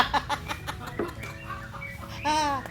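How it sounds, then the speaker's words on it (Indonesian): A rooster crows near the end, a drawn-out harmonic call, after scattered clucks and background chatter of other birds, outdoors at a custom motorcycle workshop under a matoa tree. "ada ayam berkokok"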